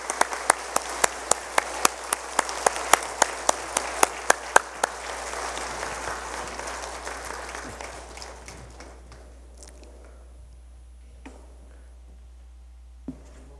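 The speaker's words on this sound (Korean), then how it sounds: "나오실 때 우리 뜨거운 박수로 맞이해주시면 감사하겠습니다" Applause from a church congregation at a Sunday worship service, welcoming retiring elders forward; dense steady clapping fades after about six seconds into scattered claps and near silence, with one last sharp clap near the end.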